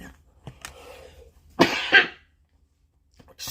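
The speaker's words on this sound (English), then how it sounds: "I think I've sneezed before, but it was a cough." A person coughs twice in close succession, loud and near, with a few quieter throat sounds before and a short silence after.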